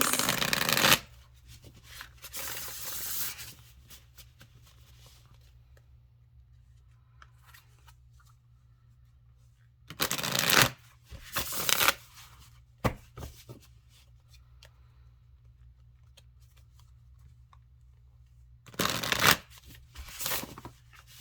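Tarot cards are shuffled in three separate bursts of riffling and flicking, close and crisp, with quiet pauses between.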